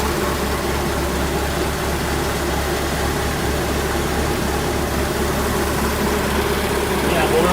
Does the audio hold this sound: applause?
no